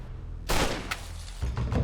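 A gunshot sound effect set in a rural barley field in France: a sharp, loud crack bursts out, followed by a fainter snap and another rumbling blast over a low background.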